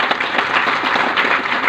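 A short, dense burst of clapping comes from an audience at an Ayurvedic health product presentation, a brief even patter of many hands.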